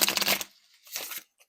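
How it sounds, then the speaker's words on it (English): A deck of tarot cards being shuffled up close: a dense riffling burst for the first half-second, then a quieter second flurry of card rustles a moment later. "gonna hit you with a shuffle, okay?"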